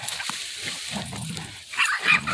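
Hunting dogs bay and bark at a treed raccoon during a night coon hunt in Texas, with short yelps and whines close by, the barking growing louder toward the end.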